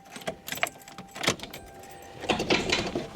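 Keys jangle in bursts inside a Foxbody Mustang as someone handles them at the ignition, close and crisp, with faint vehicle interior noise and no engine start evident.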